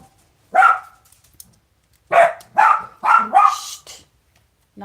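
Close, loud dog barks: one single bark, then a quick run of four sharp barks after a short pause, with no talking over them.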